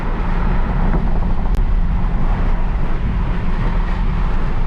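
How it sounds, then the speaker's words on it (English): Inside a 2021 Toyota Supra cruising at 70 mph, a loud, steady roar of wind buffeting and road rumble fills the cabin without pause and with no one speaking. "This is an example of the wind buffeting in a 2021 Supra at 70 miles an hour."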